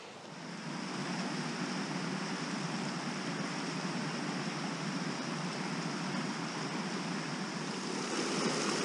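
A Dartmoor brook flows steadily close by as a broad, continuous rush of water that stays even and fairly loud throughout, with no voices.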